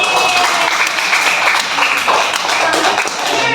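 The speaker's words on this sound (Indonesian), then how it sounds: "tepuk tangan untuk kelompok 1." Classroom applause for a student group, a steady crowd of hands clapping throughout with voices mixed in underneath.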